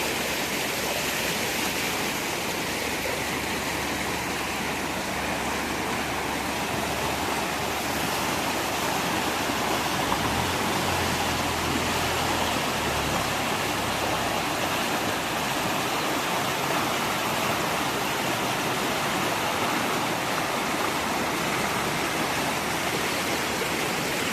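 Floodwater rushes steadily through a flooded village street in Barian Kalan, where a school wall has collapsed, a dense, continuous broadband roar that stays loud and unbroken throughout, with a low rumble near the middle and no voices.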